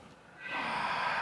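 A single deep exhale, a close, soft breathy whoosh that swells and holds steadily for about a second.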